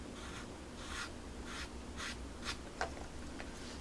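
A marker drawing a black border on paper, heard as soft, close scratchy strokes repeating at a steady pace, quiet and alone with no talking.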